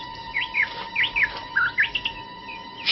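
A cartoon bird chirps in a classic animated Tom Sawyer adaptation, a rapid run of bright, rising tweets repeating steadily over a faint steady hum.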